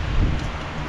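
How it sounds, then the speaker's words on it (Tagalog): Strong wind blowing outdoors, a short loud rumbling gust close to the microphone with no voices. "Ang lakas ng hangin."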